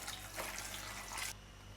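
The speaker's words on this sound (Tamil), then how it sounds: "திருப்பியும் ஒரு 3 தண்ணியில் கழுவி எடுப்போம்" Soaked rice flakes (aval) are rinsed by hand in water, giving a close, steady splashing and swishing for about a second before it stops abruptly.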